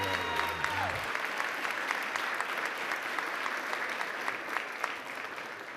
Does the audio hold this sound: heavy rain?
no